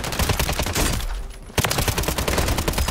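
Gunfire in Warzone 3, a loud dense volley of rapid shots with a brief lull before firing resumes.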